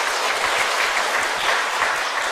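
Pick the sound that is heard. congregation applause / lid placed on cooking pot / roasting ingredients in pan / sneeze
congregation applause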